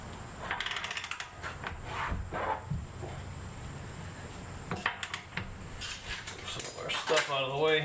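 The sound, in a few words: ratchet tightening Jeep Cherokee axle nut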